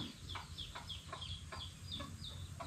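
Chickens and small chicks cluck and peep in repeated short calls over a steady low farmyard rumble, with no one talking.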